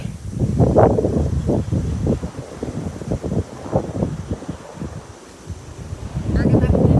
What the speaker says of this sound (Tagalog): Hangin na dito guys. Maangin na dito kasi abagat.